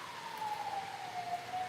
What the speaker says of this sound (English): We've got it's either an ambulance or a police.